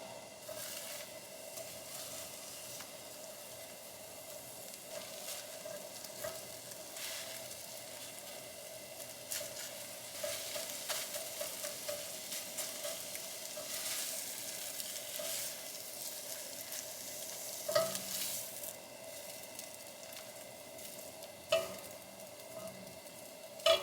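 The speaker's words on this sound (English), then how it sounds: "Total lazy person's scrambling eggs here." Eggs scramble in a pan with a soft, quiet sizzle running throughout, broken by occasional clicks and scrapes and a couple of louder knocks near the end; no talking.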